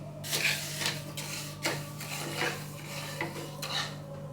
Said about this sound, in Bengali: দিয়ে চিনিটা নেড়ে একটু গলিয়ে নেবো